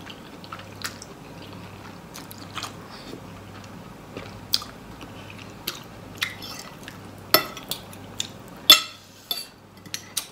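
Close, wet chewing and biting of khanom jeen noodles with green curry, with intermittent sharp clicks of cutlery against a plate over a low steady hum and no speech.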